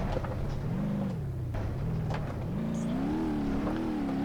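An Ibishu CityMar with 1950s suspension, 1990s brakes and a 1990s engine revs in BeamNG.drive, its engine note rising and falling steadily and loudly throughout with no talk.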